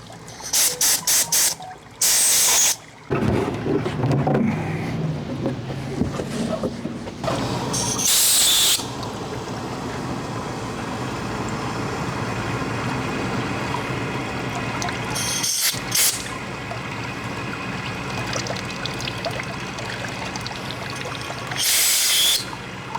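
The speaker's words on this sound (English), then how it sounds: "We'll get some compressed air." Compressed air blasts rocks and debris out of a Yamaha 300 HPDI outboard motor, a steady loud hiss with watery spatter running throughout, plus a few sharper bursts near the start and end.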